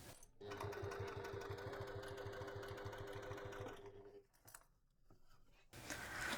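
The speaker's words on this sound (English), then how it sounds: "I'm going to take this over to the sewing machine and sew it from top to bottom" A sewing machine runs in one continuous rapid stitching burst for about four seconds while sewing a bag wing seam, then stops, followed by faint handling noises and a soft rustle.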